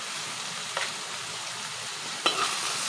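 Ridge gourd pieces frying in oil with turmeric in a pan, a soft continuous sizzle with two brief stirring clatters, close and moderately quiet.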